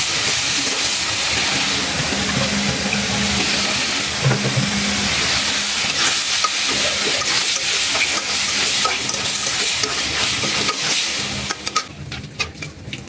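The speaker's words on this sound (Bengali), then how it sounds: "এখন আমি মাছটা রান্না করব" Chewa fish cooking in a pan with salt and turmeric gives a steady, loud sizzle and bubbling hiss, with occasional scraping of a spoon against the pan, continuous for the whole stretch.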